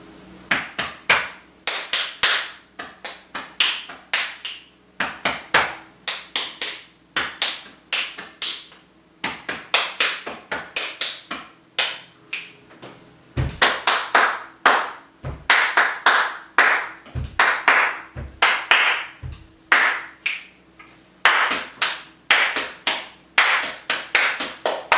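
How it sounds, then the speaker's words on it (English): A body percussion routine of chest hits, foot stamps, hand claps and pats plays out as a steady, sharp, rhythmic pattern of loud close slaps and thumps with deep stamp thuds, with no voice over it. "It starts with the chest hand one, and then it's followed by the stamp clap, and then it's followed by this one, the clap, pat, pat."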